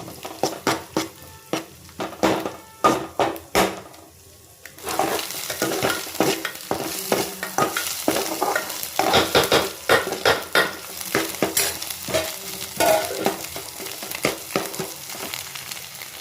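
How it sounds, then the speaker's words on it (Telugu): Potato egg bhurji being stirred and fried in a pan, with rapid repeated scrapes and clinks of a spatula over a continuous sizzling hiss, close and loud throughout with no talking. "ఎగ్ మొత్తం అలా కలిపేసుకోవాలి"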